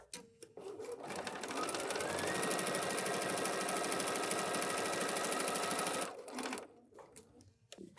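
Sewing machine running steadily for about five seconds at a short stitch length while foundation paper piecing, close and loud, with brief starts and stops of the mechanism at each end.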